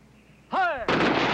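A rifle volley fired on command at a parade ceremony: a shouted order rings out, then a loud, sustained crack of the volley follows at close range.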